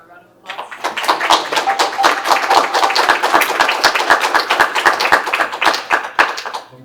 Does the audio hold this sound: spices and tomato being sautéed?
no